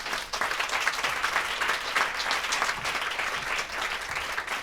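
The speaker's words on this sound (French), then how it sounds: "Merci de faire un tonnerre d'applaudissements à Pauline Desroulèdes." A studio audience on a French talk show gives a guest a thunderous welcome, with steady, dense applause that fills the room and holds evenly throughout.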